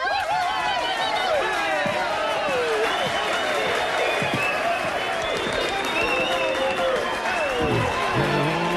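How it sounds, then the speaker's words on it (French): Audience applause at a lavish evening event for a wealthy guest of honour, with steady clapping and crowd noise filling the room, a voice and loud chatter carrying over it throughout. "on l'applaudit bien fort"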